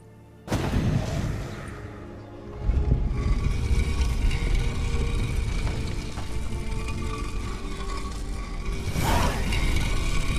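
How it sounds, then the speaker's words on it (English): In The Witcher 3, a mechanism releases the latch on a vampire hideout entrance: an abrupt mechanical clunk, then grinding, rattling gear-like rumbling that swells and keeps churning, with a second heavy clank near the end. "The mechanism which releases the latch reacts only to a higher vampire's blood."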